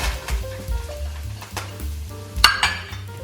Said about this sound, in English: You hear the oil behind me is starting to pop.